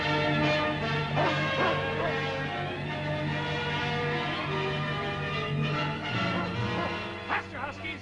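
Husky sled dogs yelp and bark in a busy, noisy outdoor scene, short sharp barks popping up over a steady low hum and general commotion.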